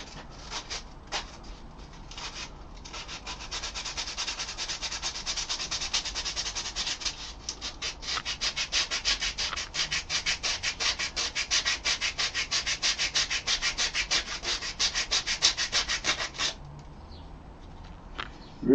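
Steady rhythmic sanding of a wooden workbench, close and continuous back-and-forth rubbing strokes for most of the time, easing off near the end with no voices.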